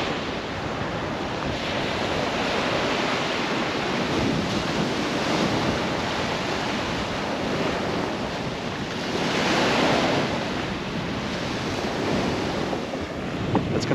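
Ocean waves wash onto a Mexican beach town's shore in a steady, close roar of surf. Gusts of wind buffet the microphone, and a slightly louder swell breaks near the end. No one speaks.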